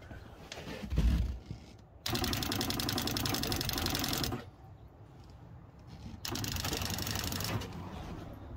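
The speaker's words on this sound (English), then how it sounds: "as soon as I open the tap halfway, we'll get that pulsating sound" A small Shurflo RV water pump chatters in bursts with the tap half open, running for a couple of seconds, pausing, then starting again with a pulsating buzz, fairly quiet and close.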